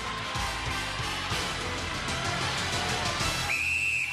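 A referee's whistle signals time up during a 1992 UK Gladiators final event, one sharp sustained blast arriving late over a loud, continuous roar of crowd noise.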